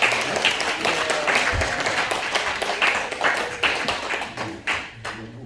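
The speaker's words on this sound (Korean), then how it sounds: "우리 박수로 한번 환영해 주시겠습니다." Congregation applause welcoming a guest pastor in a church, many hands clapping together in a lively, uneven patter that continues steadily and fades toward the end.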